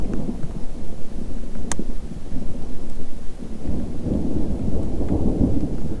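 Thunder rumbles loud and continuous during a mountain thunderstorm, with rain hissing steadily underneath and a deep rolling swell near the end.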